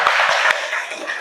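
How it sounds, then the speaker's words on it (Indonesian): A classroom of students claps for a teacher, a brief burst of dense, close applause with a few sharper claps standing out. "tepuk tangan untuk Pak Isal"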